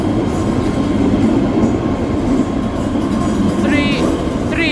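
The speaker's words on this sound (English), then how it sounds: "Departing out now is the 1318 ScotRail service starting here at Glasgow Central" A ScotRail service pulls out of Glasgow Central station, a steady loud rumble of wheels and motors close by, with brief high squeals of rails near the end.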